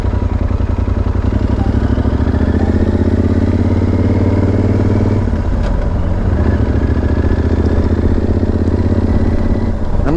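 A steady, loud motorcycle engine drone runs throughout, rumbling close from a Yamaha Super Tenere touring on roads in Slovakia and Poland, with other motorbikes around it.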